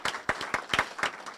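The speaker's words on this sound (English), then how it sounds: "I'd like to have her have a round of applause as well." A small audience gives a brief round of applause at a university school event, sharp individual claps scattered unevenly and fairly close.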